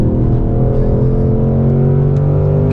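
A 2024 Ford Mustang Dark Horse with a Tremec manual gearbox, on a race track, revs hard near redline, giving a loud, sustained, close engine howl with no speech over it.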